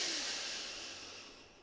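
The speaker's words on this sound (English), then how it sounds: "Take a breath." A person takes a single deep breath during a guided fascial and organ reset session, a soft airy inhale that fades gradually, ending with a faint click.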